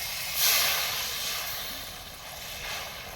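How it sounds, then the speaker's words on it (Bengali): A splash of water hits hot spices frying in a pan for kachha aam chop, giving a broad steamy hiss that flares up sharply, then slowly fades under a lingering sizzle, close by. "আমি হালকা একটু জল দিয়ে দিলাম।"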